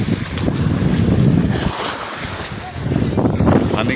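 Sea waves crashing on the shore at Musapur beach in Noakhali, a steady loud roar of surf buffeted by strong wind noise on the microphone, with a brief lull midway before the surge returns.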